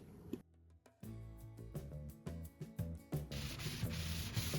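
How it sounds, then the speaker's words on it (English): Wood stain being applied with a plastic paint edger on a dresser, close rubbing and scraping strokes with small ticks, growing into a steady hiss toward the end, no talk. "I'm actually using a plastic paint edger to apply this stain"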